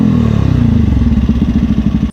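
A two-stroke motorcycle engine revs loudly up close, a raspy, buzzing drone that pulses and rises in pitch before cutting off abruptly.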